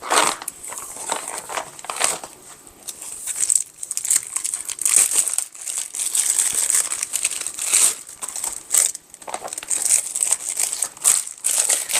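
A plastic MRE cheese tortellini package being ripped open, with close, loud crinkling, crumpling and tearing of the wrapper in irregular bursts that go on throughout.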